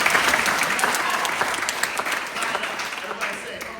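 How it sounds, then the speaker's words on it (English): A school assembly audience claps steadily, a loud, dense, sustained burst of many hands applauding together, fading slightly toward the end with no voices over it. "Clap your hands."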